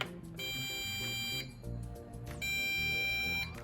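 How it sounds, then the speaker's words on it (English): A BUGS3 drone sounds its low-battery warning as repeated electronic beeps over a steady tonal buzz, with a pause midway before the beeping resumes, close and fairly loud with no speech. "That beep says that my battery is low."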